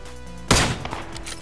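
A single heavy burst of gunfire from a teammate in a video game, sudden and fairly close, followed by fainter rumbling echoes and a few softer reports.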